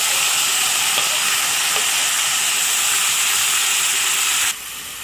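Onion, ginger and garlic fry in a pan over a low gas flame, giving a steady close sizzle and hiss with faint stirring scrapes that drops abruptly quieter near the end.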